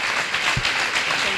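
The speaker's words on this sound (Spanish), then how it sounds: "si le damos un aplauso a Juan..." Brief audience applause during a flamenco talk and recital in Granada, a short burst of many hands clapping with a voice speaking over it.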